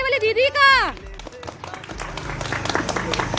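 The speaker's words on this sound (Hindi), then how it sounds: "इसीलिए उनका सम्मान किया जा रहा है जोरदार तालियों से" Applause rises for sanitation workers in Indore: a brief voice-like sound comes first, then dense crowd clapping grows from about the middle and keeps building steadily to the end.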